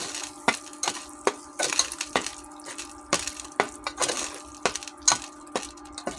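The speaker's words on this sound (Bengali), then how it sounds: "এবার মশলাটিকে নেড়ে দেবো।" Spice masala is stirred in a pan for broiler chicken, a spoon knocking and scraping in a steady, uneven rhythm of clacks over a faint sizzle, close and clear.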